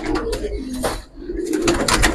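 A loud, close cooing from a Chorui-breed pigeon at a loft, two bursts of throaty coos separated by a brief lull, with other birds faintly around.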